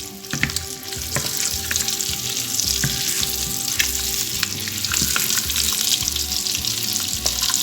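Eggs fry in a pan for an Indian-style egg masala, giving a continuous loud crackling sizzle with sharp spattering pops and occasional light scrapes, heard close and alone without voices.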